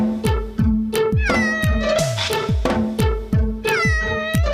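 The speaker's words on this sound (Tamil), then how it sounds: "மானங்கட்ட பூனை மறுபடியும் வந்துருச்சா?" A household cat meows loudly and repeatedly at close range, a series of sharp, insistent cries in quick rhythmic succession with no talking.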